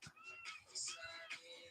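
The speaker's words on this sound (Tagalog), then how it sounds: "Why they are crying? That peacock." A peacock gives a short, wailing, cat-like meowing call close by, a brief rising and falling cry heard on its own.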